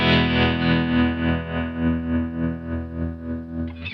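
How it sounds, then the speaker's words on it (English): Guitar running through a pedal set to a classic Fender-style tremolo gives a sustained, distorted chord whose volume pulses in a steady, even throb, loud and close with no talk. "I've got it set to just a classic Fender-esque tremolo sound."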